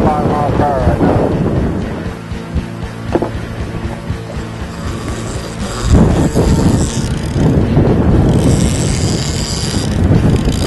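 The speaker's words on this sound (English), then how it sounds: "The wind's picked up to about 25 miles per hour right now." Strong wind of about 25 mph buffets a fishing boat off the Carolina coast, producing a loud, continuous roar and rumble across the microphone, with voices briefly rising through the gusts.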